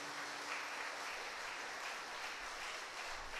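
Congregation at a Kannada prayer meeting at a prayer centre in Thokkottu clapping hands in praise: a steady, even wash of many hands, faint and somewhat distant, with no voices over it.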